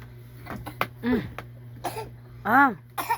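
A young child coughs a few times at home, short harsh bursts with strained, voiced catches, close and clear over a low steady hum.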